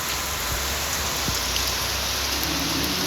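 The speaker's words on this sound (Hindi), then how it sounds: "ये देखो गाइस बारिश" Heavy rain pours steadily outside a home, a dense, even hiss of falling water that holds at constant loudness with no pauses or voices.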